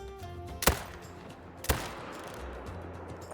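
Two sharp rifle shots about a second apart in a Call of the Wild deer hunt, each a quick crack with short decay over quiet outdoor ambience and a faint low hum.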